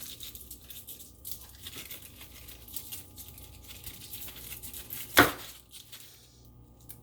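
A knife slices the bottom off a pineapple in one sharp, brief cut, preceded by soft handling and rustling noises in a quiet room.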